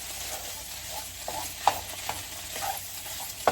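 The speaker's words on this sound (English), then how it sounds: "go ahead and mix that around. Get that tomato paste worked around in there" Tomato paste is stirred around a pot for lasagna soup, a soft sizzle under intermittent scrapes and knocks of the spoon against the pot, close by with no talking.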